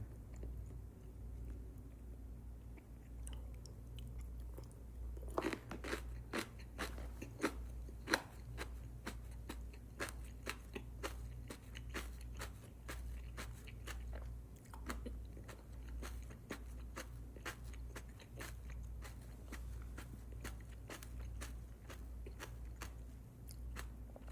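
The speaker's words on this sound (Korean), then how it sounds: "돈까스 진짜 오랜만에 먹어요" Crunchy breaded pork cutlet, tonkatsu, being bitten and chewed close to the mic, with a steady run of crisp crackling crunches over a low hum.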